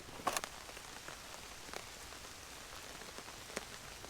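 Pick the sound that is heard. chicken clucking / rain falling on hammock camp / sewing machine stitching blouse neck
rain falling on hammock camp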